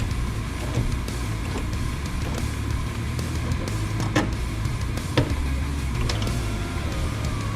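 A Holden Commodore (VB–VL) power window regulator being moved up and down by hand during installation, with a constant low mechanical hum and a few sharp metallic clicks and clunks.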